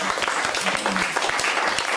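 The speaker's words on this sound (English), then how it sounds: "Give her a big round of applause and don't stand in the way." An audience at a sustainable futures event in the South West applauds a speaker, brisk close clapping from many hands, with a voice briefly heard over it.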